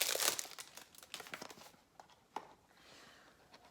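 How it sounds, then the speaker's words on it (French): Plastic and paper packaging around a perfume is crinkled and torn open close by. The rustling and crackling comes in uneven bursts that fade to quieter handling, with no one speaking. "je vous le montre tout emballé, mais je vais directement le déballer"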